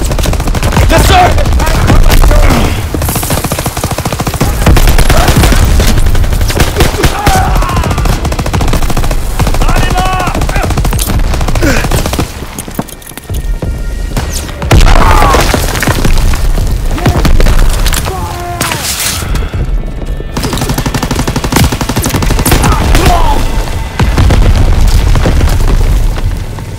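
Relentless machine-gun fire and booming artillery explosions pound a D-Day beach landing in Call of Duty WW2, loud, dense and continuous, with heavy blasts throughout and shouted voices faintly mixed into the battle.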